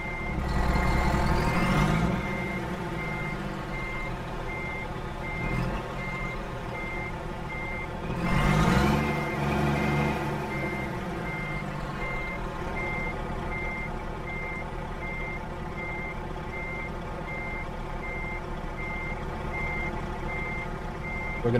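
A truck's reverse alarm beeps in a steady repeating pulse throughout American Truck Simulator, running over a low diesel engine idle, with two brief louder air-brake hisses near the start.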